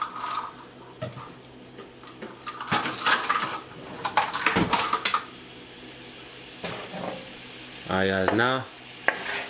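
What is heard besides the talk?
stirring chicken hibachi in a pan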